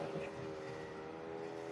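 A steady droning grass-cutting machine engine hum, running at a distance, constant and unbroken throughout.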